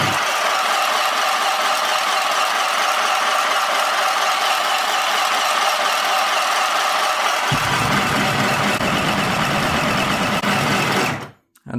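A mini sewing machine runs steadily while winding thread onto a bobbin, a close, loud whirring hum that deepens partway through and then stops abruptly near the end.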